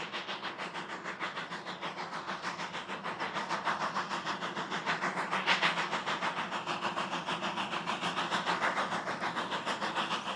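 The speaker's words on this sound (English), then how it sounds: "This BLS-operated intermodal has a banking engine helping at the rear summit" A BLS intermodal freight train with a banking engine pushing at the rear rumbles past at a distance, a faint, steady rhythmic clatter of wheels on rail with no voices.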